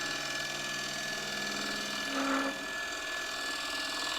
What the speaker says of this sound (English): Just using that skew as a negative rake scraper.